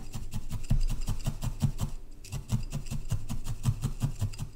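A felting needle stabs wool down into a tobacco tin lid in rapid, regular jabs, a close rhythmic scratchy poking that continues steadily with one brief pause.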